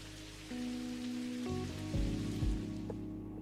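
Rain falls steadily outside in the video game Necrobarista, a soft continuous patter beneath sustained tonal music that shifts in pitch partway through.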